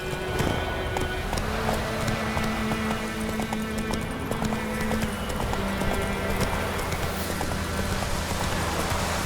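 Horse hooves galloping in the video game The Witcher 3, a steady, rapid, loud clip-clop that runs the whole time over a continuous music bed.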